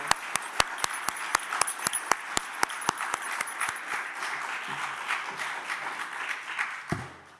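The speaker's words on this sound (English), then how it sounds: "So, one more round of applause for y'all." A school audience applauds after a seventh-grade poetry reading, a room full of clapping with a few sharp, loud claps standing out at first, then a steady patter that fades away near the end.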